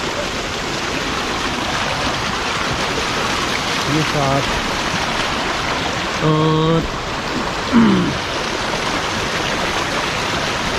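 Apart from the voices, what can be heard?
mountain stream flowing water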